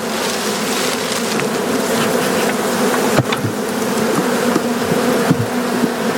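Honey bees buzzing steadily and densely around an open hive during a spring inspection, a continuous close swarm drone with occasional louder passes as individual bees fly near.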